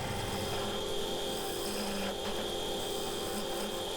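A gouge cuts the rim of a sycamore bowl spinning on a wood lathe, producing a steady, faint scraping rasp against a constant motor hum, with no speech.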